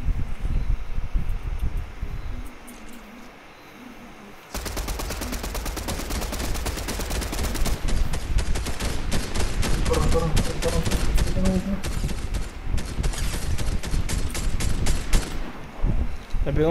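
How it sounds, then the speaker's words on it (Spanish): Gunfire in a Fortnite Chapter 3 Season 1 trio match: after a quieter stretch, rapid bursts of automatic fire and scattered single shots crackle densely and loudly for over ten seconds. "Le pegó un par de tiros."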